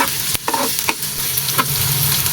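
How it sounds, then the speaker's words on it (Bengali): Chopped onion and green chilies frying in hot oil for a shrimp and taro-stolon curry, a loud steady sizzle close up with scattered spatula clacks and stirring scrapes. "এখন আমি দিয়ে দেব পেঁয়াজ আর কাঁচামরিচ। পেঁয়াজ কুচি ও কাঁচামরিচ আমি আস্তে আস্তে করে ভেজে নেব।"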